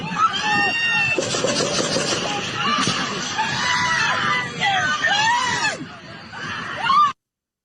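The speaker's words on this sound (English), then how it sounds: "And a lot of screaming." Many people scream and shout in panic during a shooting, loud, sustained overlapping screams and yells filling the whole stretch with crowd babble underneath.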